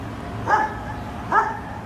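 A dog at a K9 training facility gives two short barks about a second apart, fairly near and moderately loud over a steady low background hum.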